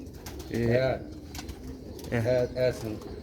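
Sialkoti pigeons coo close by while feeding on grain, in two short rolling bursts, soft throaty calls separated by a brief pause.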